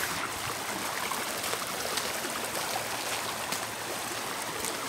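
A swollen mountain stream rushes in a steady, unbroken wash of flowing water, close and fairly even in level, with no voices.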